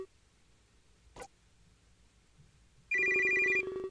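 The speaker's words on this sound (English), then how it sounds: "my phone rings" A phone rings in the Major\Minor video game: a bright electronic ringtone starts suddenly near the end and runs loud for about a second. Before it there is only a quiet background and one soft click.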